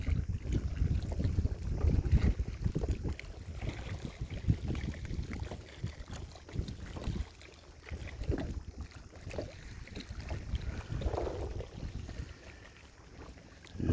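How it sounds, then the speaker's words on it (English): Water sloshes and slaps irregularly against rocks close by a kayak, with wind rumbling and buffeting the microphone throughout. "just listen to the sound of the water hitting against them"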